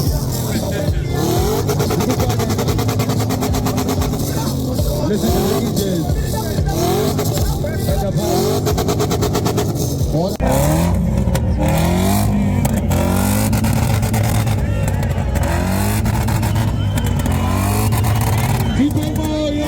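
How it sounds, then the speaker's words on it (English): Car exhausts revved one after another at an exhaust competition during a Zimbabwe auto festival, loud repeated engine revs and roaring blips over a noisy crowd with people talking throughout. "Next was the exhaust competition to see who's got the best exhaust."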